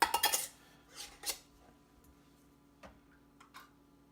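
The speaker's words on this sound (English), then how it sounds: "the next step will be to take these jars and put into my pressure canner" Glass canning jars filled with French onion soup clink and knock as they are set into a pressure canner, a few sharp bright clatters followed by softer, sparse taps in a quiet room.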